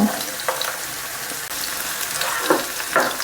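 Small pieces of chopped garlic frying in oil for chilli chicken, a loud, close, steady sizzle with a few sharper spatters and stirring knocks, no talking.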